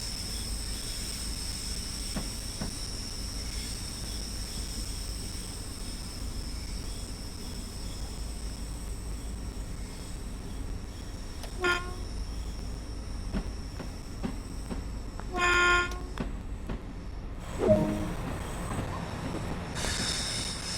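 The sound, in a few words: electric multiple unit train running, video game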